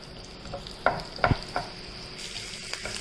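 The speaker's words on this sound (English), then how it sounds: "Now the oil is heated, add onions to it and saute the onions till it changes its color." Onions sautéing in hot oil for malai kofta give off a steady, low sizzle, broken by a few sharp spoon-stir clicks and scrapes near the start.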